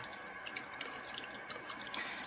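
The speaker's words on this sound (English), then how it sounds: "So I'm going to get some warm water," Warm water streams from a bathroom tap to dampen a makeup sponge, a steady soft hiss and splash, close but fairly quiet, with no talking.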